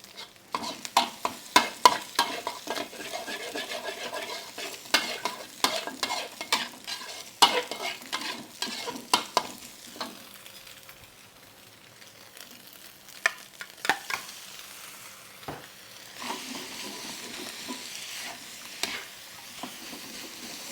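Egg fried rice is stir-fried in a hot pan, with a steady sizzle and repeated scraping, tossing strokes of a spatula, louder at first and easing off later, with no talking.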